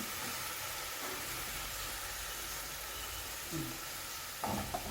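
Mushrooms frying in an onion masala make a steady, even hiss of sizzling throughout. A couple of faint clinks come near the end.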